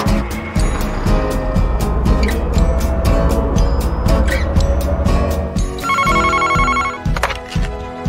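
A telephone rings in a video game, a loud repeating electronic ring in regular bursts over a busy background of other game sounds.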